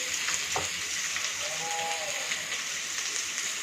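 Onion, peas, capsicum, cauliflower and carrot frying in oil in a pan for vegetable pulao, giving a steady hissing sizzle with a few faint scrapes and clinks, moderately close, with no speech.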